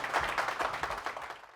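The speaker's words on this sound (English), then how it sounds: "A big round of applause for" A live audience gives a short burst of applause, a dense patter of many hands clapping at moderate volume that trails off after a second or so.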